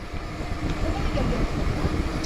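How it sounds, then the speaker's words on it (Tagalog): Strong, cold wind buffets the microphone during a ride in a steady low rumble, continuous and loud throughout, with no clear voices. "Bugnaw kayo, kusog ang hangin."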